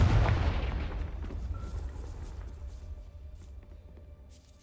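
Confringo fire spell blast in the Hogwarts Legacy video game: a loud boom at the start with a deep low rumble that decays slowly over several seconds, alone with no talk.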